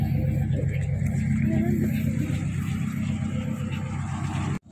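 A 1994 Daihatsu Feroza's 1600 cc engine roars at steady high revs with a deep rumbling tone, loud and close, then cuts off abruptly at the end.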